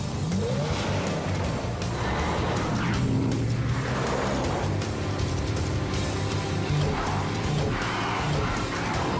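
Cartoon race cars in an animated rescue-robot series roaring past at speed with skidding tires: a loud, continuous, dense engine-and-tire rush that swells and eases without letting up.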